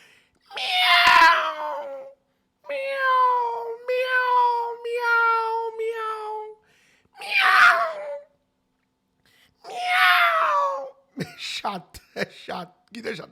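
A human voice imitates a cat, giving a series of drawn-out, wavering meows with pauses between them, followed by a few sharp clicks and knocks.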